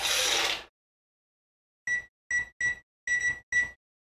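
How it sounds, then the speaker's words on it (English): A kitchen timer being set while cooking pasta: a brief rustle, then five short, bright electronic beeps in an uneven rhythm, close and clear against silence. "Get the timer going"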